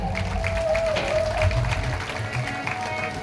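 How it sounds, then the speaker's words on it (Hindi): Audience applause greets Nirmal Jain, a village sarpanch welcomed as a guest at a gathering. It is a steady, dense wash of clapping lasting a few seconds, with a faint tonal hum running through it. "इनके लिए एक बार जोरदार तालियां"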